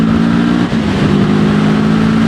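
The engine of a Moto Morini Seiemmezzo 650 Scrambler motorcycle drones loudly and steadily while riding, a close, even hum with a brief dip under wind rush, and no one talks.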